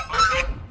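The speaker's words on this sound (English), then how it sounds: "I have never been hurt by a goose, but I've been startled by a goose." A goose honks loudly and close by on a windy spring day, one short harsh nasal call that rises and fades within a second, heard alone without talk.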